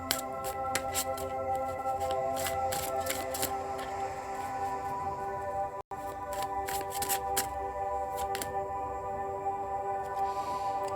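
A deck of tarot cards being shuffled by hand, repeated riffling and slapping bursts close up over a soft background tone, with a brief dropout midway and no talk.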